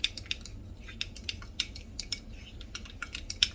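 A utensil stirring homemade steak sauce with Worcestershire sauce in a bowl, producing quick, irregular light clicks and scrapes that repeat steadily and close by.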